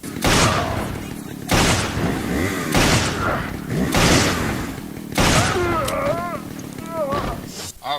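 Several loud, booming shots from the M500 revolver in Resident Evil 5, spaced a second or two apart, each followed by game sound effects, creature growls and chimes.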